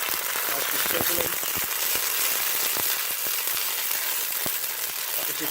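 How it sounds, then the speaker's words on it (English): Onions and tomato sizzle and crackle continuously in a hot pan, a dense hiss with scattered sharp pops, close and steady throughout. "it's sizzling now because we've got the water contents"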